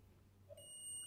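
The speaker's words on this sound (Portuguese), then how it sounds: "Ó, bipô." A short electronic beep sounds midway as wires are tested on a homemade mini HDMI monitor for CCTV, a clear steady tone that rings on over a low background hum.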